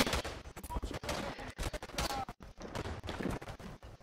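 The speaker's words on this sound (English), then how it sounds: "Oh, it uses a machine gun." Machine gun fire in the World War I shooter Tannenberg, rapid stuttering bursts of gunfire with brief gaps, fairly close, rattling on for several seconds.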